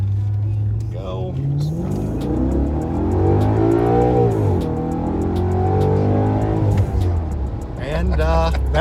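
A naturally aspirated Maserati Quattroporte engine accelerates loudly from inside the car, its pitch climbing in a long surge and then easing, with people talking over and around the engine note.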